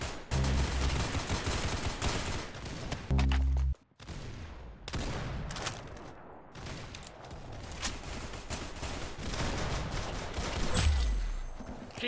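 Rapid bursts of automatic gunfire from the Roblox shooter Arsenal, loud and dense with a brief dropout near the middle, then continuing fire and impacts.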